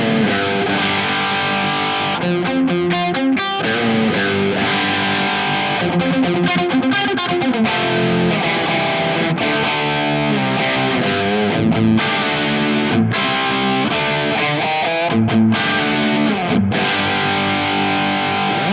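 Electric guitar through a Marshall Studio JCM900 amp on its distortion channel with reverb added, continuous heavily overdriven chords and riffs ringing out loud and dense throughout, with short breaks between phrases.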